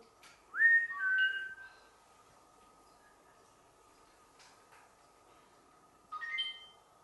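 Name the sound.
person whistling in Guild Hall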